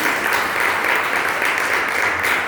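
A church congregation applauds together in steady, dense clapping that holds evenly across the whole stretch, fairly close and loud with no pauses.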